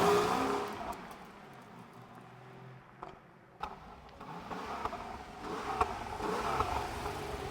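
An air-cooled Porsche 993 in rough condition being driven, its engine a fairly quiet, steady hum from inside the car with slight swells as the revs rise and fall.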